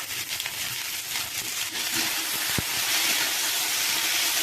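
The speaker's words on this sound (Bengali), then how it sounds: "আলুগুলো পেঁয়াজের সাথে একটু ভেজে নিয়ে আমি তরুলিগুলো দিয়ে দিচ্ছি এর মধ্যে।" Taruli frying with potatoes and onions in a pan gives a steady, close hissing sizzle that grows slightly fuller over the few seconds. A single short knock sounds partway through, and there is no talking.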